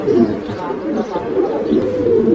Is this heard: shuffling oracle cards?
no